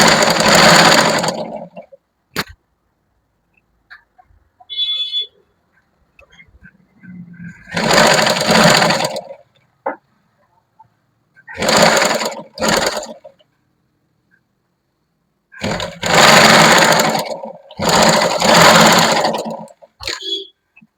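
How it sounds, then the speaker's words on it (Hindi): Home sewing machine stitching a lined kurti, short loud bursts of rapid needle chatter and motor whir lasting a second or two each, separated by silent pauses, close to the microphone. "उसके ऊपर से हमें एक स्टिचिंग लगा लेना है"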